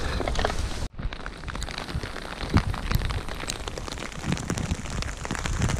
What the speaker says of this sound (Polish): jak widzicie, pada